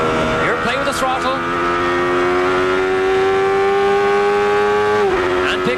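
A 1993 CART race car at Mid-Ohio holds a loud, steady, high-pitched engine note in fifth gear as the driver works the throttle, then the pitch drops sharply near the end as the car shifts. A voice talks over the engine.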